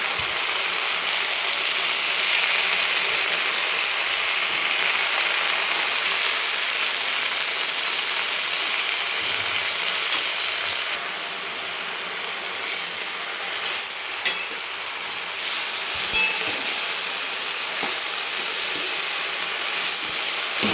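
Leafy greens of the rice-plant variety, tandulkunjir, stir-frying in a pan, a continuous sizzling hiss with scattered scraping and clicking of a spatula as the leaves are turned, steady throughout.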